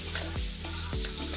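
Onion sizzling in hot oil in a clay pot while pork chop sauce is cooked: a steady close hiss with bright crackle, punctuated by a few soft stirring scrapes.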